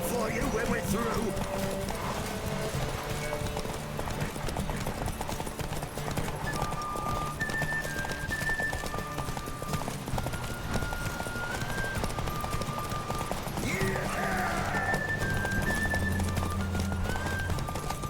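Hooves pound in a fast, continuous gallop during a horse race in The Witcher 3, loud and close throughout, with music and a voice shouting over the rhythmic clip-clop.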